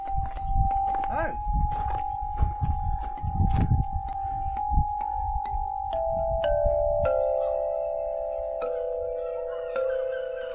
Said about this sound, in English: Oh, so there's the glockenspiel.